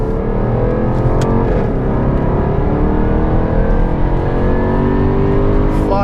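A 2016 Jaguar F-Type R AWD coupe with 550 horsepower accelerates hard on a track, its engine roaring loud and continuous with rising pitch throughout, heard from inside the car.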